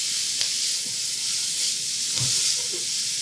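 Chopped onions sauté in a lidded 15-inch paella pan, giving a steady close sizzling hiss with a few soft clinks of stirring and no voices.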